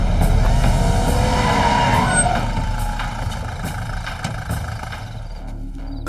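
A vehicle turns and skids with a loud engine roar and tire screech that fades gradually, followed by scattered clicks and a low rumble.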